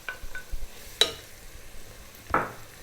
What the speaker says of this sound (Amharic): ሽንኩርቱን እርዱን አብረን እንጠብሳለን